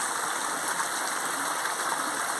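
A natural stream flowing in an outdoor setting, giving a steady, close rushing and babbling of water that continues evenly without pause.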